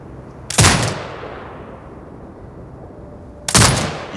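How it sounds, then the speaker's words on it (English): Two loud, sharp turret blasts roughly three seconds apart in Sniper Ghost Warrior Contracts 2, each a sudden boom trailing into a long fading echo over faint background hum. "Exit binocular mode and command the turret to fire"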